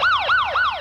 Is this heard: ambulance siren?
yes